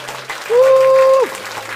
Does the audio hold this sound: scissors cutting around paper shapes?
no